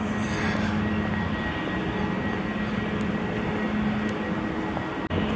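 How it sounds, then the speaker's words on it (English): A fixed-wing airplane passes overhead on a sunny day in Arizona, producing a loud, steady broadband engine roar with a droning hum that fills the whole stretch. "An airplane."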